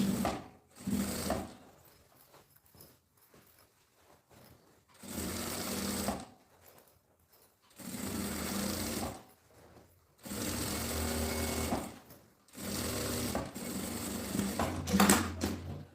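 A sewing machine stitching a women's backpack runs in several bursts of rapid, even clatter of a second or two each, separated by quiet pauses, with a longer run near the end.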